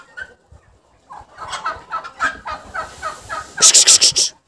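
Farmyard turkeys gobble in repeated bursts among chickens and ducks outdoors, rising to loud, close, rapid gobbles near the end over light background clucking.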